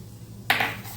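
A hot tempering of garlic and Kashmiri chili is poured onto khichdi, bursting into a sudden loud sizzle that hisses on briefly after a quiet start.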